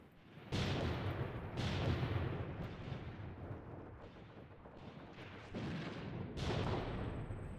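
Repeated heavy mortar blasts and artillery-like booms in a WW2 simulator game, several loud broadband impacts rolling over one another with sustained rumble between them, no talking.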